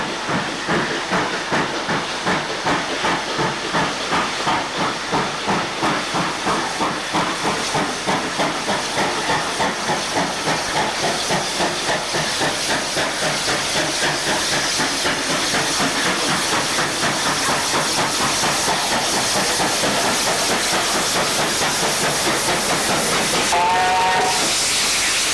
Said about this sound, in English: 3801, arguably Australia's most famous steam locomotive.